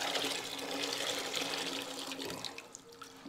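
Tap water runs steadily into a fryer-like kitchen appliance, a continuous close hiss and splash of filling, easing slightly toward the end.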